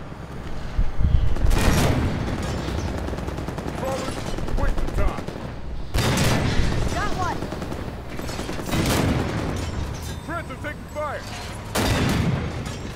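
Gunfire in the Halo 5 video game comes in several loud, dense bursts of rapid automatic shots separated by short pauses, with game voices and effects mixed in.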